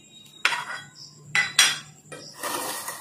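A spoon knocks and scrapes against a bowl as Eno is stirred into cake batter for an oven-free idli-stand cake, giving three or four short clinking bursts with quiet gaps between them.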